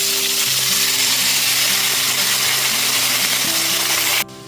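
Chopped tomato pieces dropped into hot tempered spice oil for a tomato chutney, a loud steady sizzle and hiss of frying that cuts off abruptly near the end.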